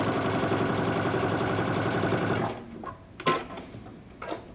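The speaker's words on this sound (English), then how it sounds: "now we're just going to stitch this down the side so it becomes all one piece" A sewing machine runs steadily, stitching a jumpsuit pocket down the side in a fast, even mechanical rhythm, then stops, leaving a few soft handling knocks and clicks up close.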